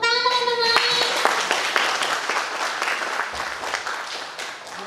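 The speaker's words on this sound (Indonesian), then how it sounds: "Tepuk tangan teman-teman." Audience at an Indonesian talk-show gathering breaks into applause, steady clapping from a crowd that starts under a brief sustained tone and slowly tapers off.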